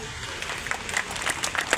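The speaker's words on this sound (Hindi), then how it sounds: "ताली बजे तो ऐसी बजना चाहिए कि मजा आ जाए" Audience applause at a public event in Bhopal, a steady crowd clapping that swells slightly toward the end, fairly close and continuous.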